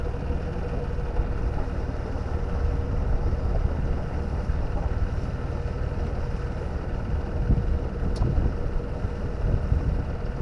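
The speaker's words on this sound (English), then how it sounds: "Just ease the motor right back." A sailboat's motor runs at low throttle while motoring through a tight tidal channel past a pontoon. It makes a steady, low rumbling drone with wind noise over it, continuous for the whole stretch, and no one speaks.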